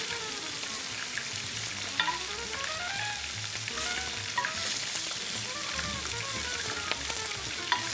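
Hot Italian sausage balls fry in hot oil with a steady, dense sizzle, close and continuous, with a few small pops and clinks throughout.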